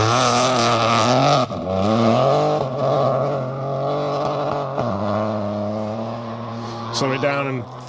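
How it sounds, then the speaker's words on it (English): Peugeot 208 rally car on a Welsh Rally Championship stage, its engine revving hard with rising and falling pitch as it slows and is thrown into a corner, loud and close with a commentator talking over it. "trying to keep those revs high and keep the momentum inside that little Peugeot"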